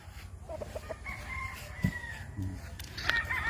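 Gamefowl roosters crow on a breeding farm in Misamis Oriental, Philippines, with one clear drawn-out crow, clucking and other fowl calls layered at moderate distance over a steady outdoor background.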